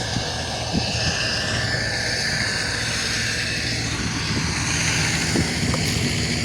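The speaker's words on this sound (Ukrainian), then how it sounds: "отож так культиватор працює" MTZ-82 tractor pulling a cultivator and a Remsintez seed drill while sowing corn, a loud continuous engine drone close by with faint rattles over it.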